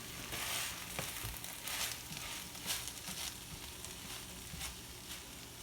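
Ground turkey frying in a pan for tacos, giving a steady close sizzle with soft crackles and faint stirring scrapes, no talk over it.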